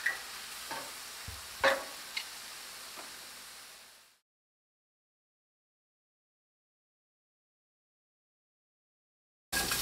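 Mushrooms cooking with salt in a skillet, a soft crackling sizzle with a few stirring clicks and scrapes close by, then cutting to silence before a brief loud burst of hiss at the end.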